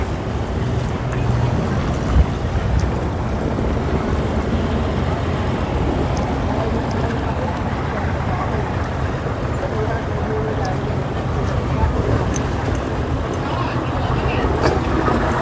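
Speedboat crossing open sea off Bali Hai pier in Pattaya toward Koh Larn, a dense, loud roar of engine, rushing water and wind buffeting the microphone that runs steadily throughout.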